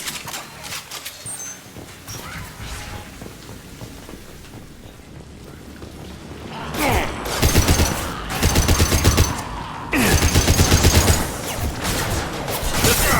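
Gunfire erupts in the video game Mass Effect 2, with dense bursts of rapid automatic shots coming in two loud clusters over a busy background of combat noise and effects.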